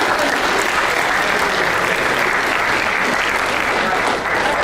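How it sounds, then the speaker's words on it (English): Full, steady applause from an audience at a school leadership summit, loud and continuous for several seconds with no talking. "Round of applause."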